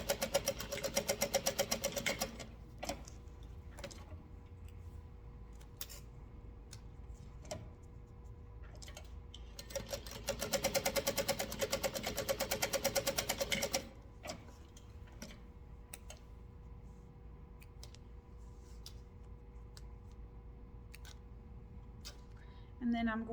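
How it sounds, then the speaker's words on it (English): A sewing machine topstitching along the long fabric edges runs in two rapid rattling bursts of several seconds each, separated by quiet pauses filled with small clicks and handling of the cloth. "I'm going to top stitch 1/8 of an inch down each long edge for both of them, back stitching at the beginning and end"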